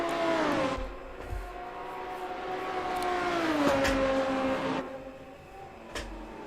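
Sim-racing cars including a BMW 635 lapping Lakeside circuit in a VRL ATCC race, engines droning steadily with rising and falling pitch as cars run side by side, with brief revs and gear changes.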